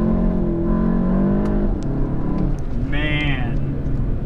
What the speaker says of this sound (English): It really will bounce the rev limiter now.